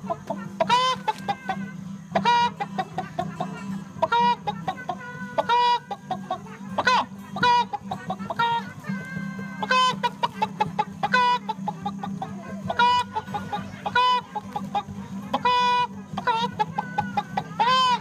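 Chickens clucking continuously in a busy, uneven chorus, with occasional sharper squawks over a low steady hum, fairly close.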